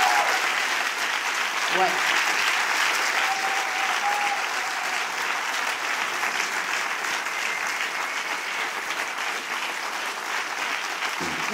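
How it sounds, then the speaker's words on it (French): Comedy-show audience at the Nouvelle Ève in France applauds loudly and steadily for the full stretch, a dense wash of many hands clapping with a brief spoken word from the stage near the start. "là vous applaudissez, vous êtes sympa"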